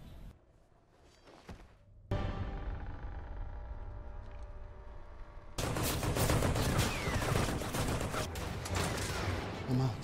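Gunfire shootout from the 2021 Kingsman film: a quiet, muffled opening gives way to rumbling action, then dense bursts of rapid shots crackle loudly through the final seconds.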